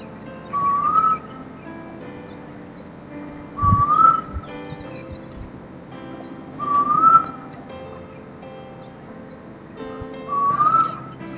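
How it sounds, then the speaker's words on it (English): Male and female Eastern Koels call in a duet in the Hunter Valley, New South Wales: four loud rising whistled notes repeat at even intervals of about three seconds, clear against a quiet background. "We will now finish with the duet of the male and the female Koel, both calling together."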